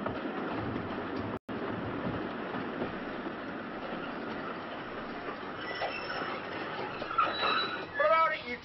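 A train pulls into a station with a steady rolling rumble, clattering wheels and faint squeals building toward the end, while voices chatter faintly over it.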